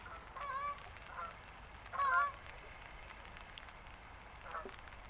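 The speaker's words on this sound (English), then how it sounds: "That's geese overhead." Geese honk in the distance, a few faint calls scattered over several seconds above a quiet outdoor background.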